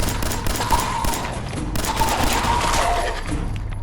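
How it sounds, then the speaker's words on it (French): Continuous gunfire from a 10 mm weapon in Fallout 4, a steady dense clatter of shots with dull thumps, loud and sustained throughout with no pauses. "Faut te tirer plein de munitions dessus"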